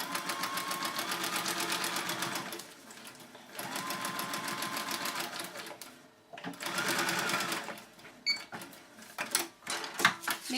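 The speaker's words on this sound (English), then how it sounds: "I'm going to overlap the line right here by at least 1/4 inch, if not a 1/2 inch. And I'm going to sew." A sewing machine stitches a seam for paper piecing in quick rapid bursts, pausing between runs, with close mechanical clatter and a few brief handling clicks near the end.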